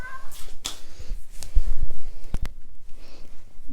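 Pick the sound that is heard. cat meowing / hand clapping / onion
cat meowing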